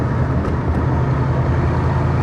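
A 1989 Ford Mustang LX Fox body hatchback drives along, its engine giving a loud, continuous low rumble from inside the cabin with steady road noise and no talking.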